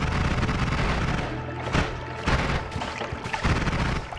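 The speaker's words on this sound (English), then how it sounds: "Machine gun? Machine gun. Always a little bit of fun." Rapid machine-gun fire in the game Noita, a dense continuous burst with several heavier booming hits punctuating it, loud and close with no talking.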